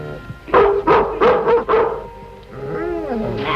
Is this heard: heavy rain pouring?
no